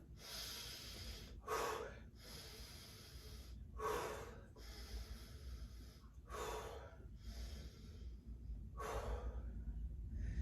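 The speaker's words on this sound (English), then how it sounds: "Breathing in through my nose and out of my mouth." Steady breathing during a hip band full body workout, in through the nose and out through the mouth, with several louder breathy exhalations spaced a few seconds apart over a constant low background.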